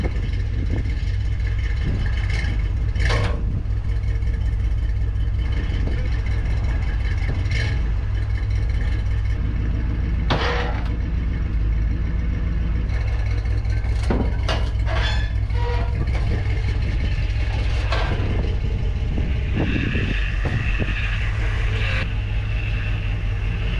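The engine of a 1961 Chevrolet Parkwood with a new exhaust runs close and loud with a constant deep rumble. The idle stays continuous and throaty throughout, with scattered clanks and brief noises over it.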